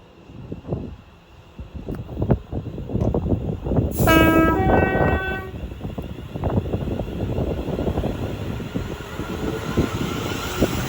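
A London Northwestern Railway train departs Watford Junction on the West Coast Main Line with a steady, close rumble of moving carriages and a brief horn-like tone partway through.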